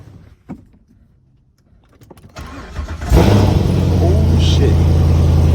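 A C7 Corvette fitted with new headers cranks over and fires, jumping from quiet shuffling into a loud, sustained, aggressive exhaust rumble that holds steady close by.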